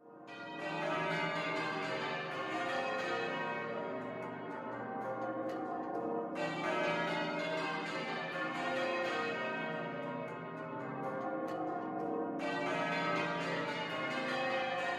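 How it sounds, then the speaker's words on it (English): Peal of church bells from St. Paul's in London, layered ringing tones sounding in three long swells of about six seconds each, rich and sustained, with no voices. "The sound of bells."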